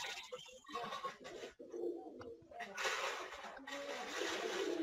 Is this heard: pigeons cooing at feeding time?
yes